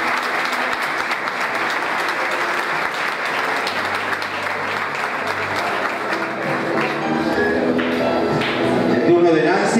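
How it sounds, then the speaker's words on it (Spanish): A school audience applauds loudly at a tribute to retiring teachers, sustained crowd clapping with a few taps and thuds, swelling slightly toward the end while voices murmur underneath. "Fuerte los aplausos, que se escuchen hasta Tucumán"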